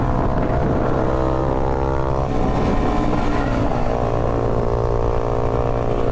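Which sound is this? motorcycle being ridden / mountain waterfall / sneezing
motorcycle being ridden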